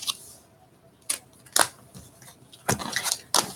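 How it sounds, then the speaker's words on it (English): Tarot cards being shuffled by hand, a few brisk papery riffles and snaps in short bursts separated by quiet pauses, close to the listener. "We'll do a final shuffle"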